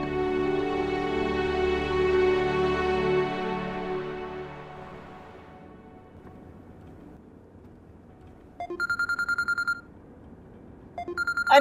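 A fading tonal chord gives way to near silence, then an electronic phone ringtone sounds in a loud trilling burst, stops, and starts again.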